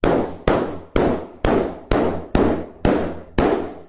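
Eight sharp pops burst one after another at an even, quick pace, each loud and close with a short fading tail.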